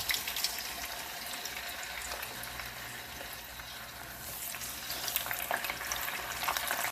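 Sweet potato pieces fry in hot oil with caramelizing sugar, giving a dense, steady hiss and crackle that holds fairly even, faint, with no one talking.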